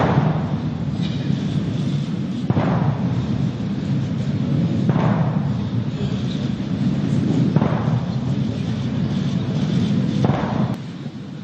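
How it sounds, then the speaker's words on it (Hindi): A 21-gun cannon salute at the swearing-in of Indian President Ram Nath Kovind, several heavy distant blasts at regular intervals over a loud continuous crowd and wind roar. "21 तोपों की सलामी। ये जो आवाज सुन रहे हैं आप,"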